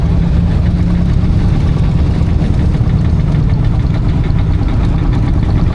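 A 1930s Marshall steam engine runs at a steam rally in Welland, Worcestershire, giving a loud, steady low rumble with a continuous throbbing beat and no voices.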